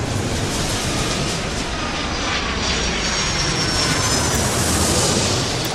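A jet airliner in the Airport Madness video game roars steadily through its takeoff run, a loud continuous broadband engine rumble and whine with no voices.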